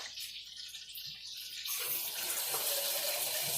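Water poured from a tap or jug into plastic meal prep containers, a steady close gush starting partway through after a quieter start, with no talking.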